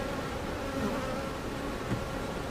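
Honey bees buzz steadily and densely around an open hive during an inspection of a honey super, a continuous close drone with no talk.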